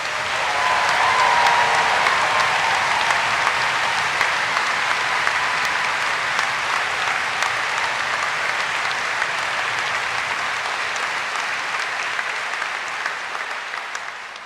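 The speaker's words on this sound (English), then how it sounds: "And if that doesn't deserve a cheer, what does?" A graduation ceremony audience at the University of Dundee breaks into loud, sustained applause and cheering that fills the hall, slowly fading toward the end.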